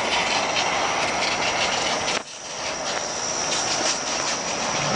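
A steady hiss of water spraying from a garden hose onto plants, continuous and fairly loud, with a brief dip about midway before the spray resumes.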